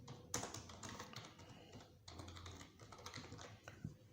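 Close, steady typing on a computer keyboard, quick irregular key taps and clacks running continuously for a few seconds with no talking.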